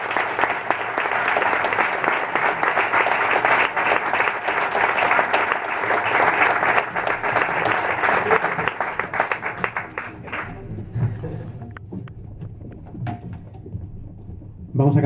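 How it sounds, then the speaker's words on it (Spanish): Loud, sustained applause from a large audience at a concert fills the room, then thins out and fades toward the end. "me gustaría que le dierais un aplauso"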